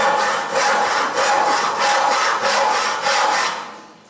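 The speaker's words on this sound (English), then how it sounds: "I started by cutting off the head." A saw rasps back and forth in steady, rhythmic strokes, about eight close, loud pulls, as a radio-play sound effect for cutting off a body's head, fading out at the end.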